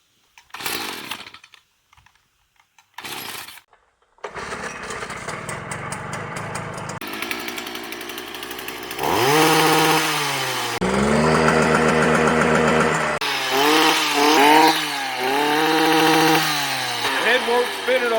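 A Stihl string trimmer is pulled over a few times with short bursts, then fires up and runs, its two-stroke engine revving and dropping repeatedly, loud and close, with someone talking at points.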